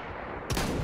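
Roblox gun firing in a video game: a broadband burst starts midway and holds loud to the end of the short clip, like sustained gunfire, with no talk.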